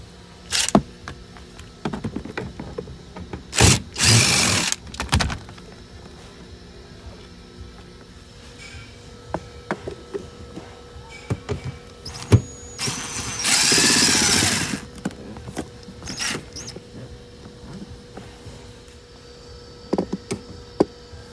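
A power tool removing 10mm bolts from a car near the bumper, with a few short, loud whirring bursts separated by quieter stretches of light handling clatter, close and without speech.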